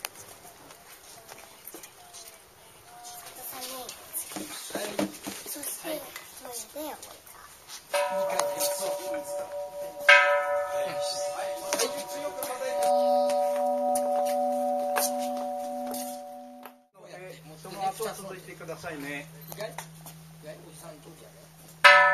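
Peace Bell struck by kindergarten children at a Nagasaki atomic bombing memorial in Nanae, sustained tones ringing out and decaying over several seconds, with murmuring voices and footsteps of a small crowd around it.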